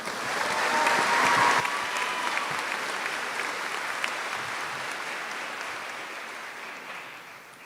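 Audience at a class of 2024 high school commencement claps for scholarship recipients, applause swelling quickly to a peak and then gradually tapering off as the crowd settles.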